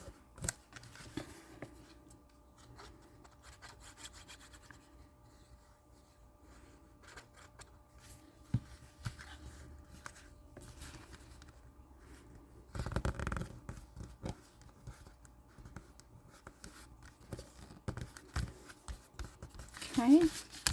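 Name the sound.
folding paper for a shabby chic journal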